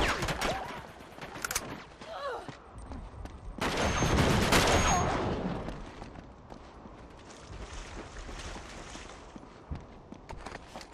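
Bursts of automatic gunfire from a 2 vs. 2 Uncharted 2 multiplayer match, with loud crackling volleys early on and a heavy sustained barrage in the middle before it settles into quieter scattered shots.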